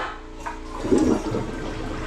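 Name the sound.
toilet flushing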